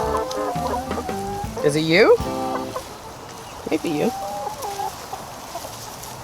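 Chickens cluck and squawk close by on a farm during harvest day, a busy run of overlapping fowl calls with a louder burst in the middle, while a person talks softly over them.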